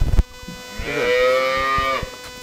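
A dairy cow gives one long, close, loud moo after a short knock, the call holding steady before tapering off.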